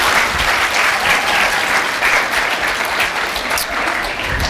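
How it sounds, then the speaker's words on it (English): A room full of people at a student enterprise summit in Scotland breaks into loud, dense applause that holds steady for several seconds with no talking. "a big round of applause to everybody in this room"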